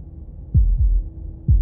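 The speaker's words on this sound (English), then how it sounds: "That was the sound of a heartbeat," Heartbeat in the video game Slay the Princess: three deep, thudding low beats in an uneven double rhythm, loud and close over a quiet hum, with no talking.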